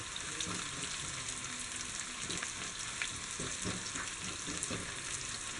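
Onions sautéing with salt in a pan on the stove, a soft steady sizzle and crackle with occasional stirring scrapes, close and fairly quiet.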